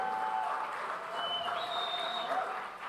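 A crowd at a film success meet applauds to welcome a director onto the stage, with dense, steady clapping throughout and a few whistles rising above it.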